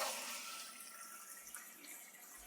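Water gushing from household taps after a boiler conversion, a steady, fairly quiet rushing that eases slightly over a couple of seconds, with no voices.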